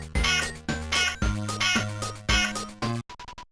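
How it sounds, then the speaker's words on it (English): Repeated harsh, buzzy game sound effect from an enemy attack in the Game Boy Advance game Inspector Gadget: Advance Mission, several loud bursts in a row followed by a short stuttering chirp, with no talk. "Imagine getting killed by an extremely dumb AI enemy whose attacks sound like this."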